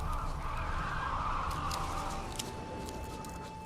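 Crows caw in The Witcher 3: Wild Hunt, harsh honking calls layered over a steady ambient hum. The calls are strongest early and thin out toward the end, fairly faint and distant, with no talking.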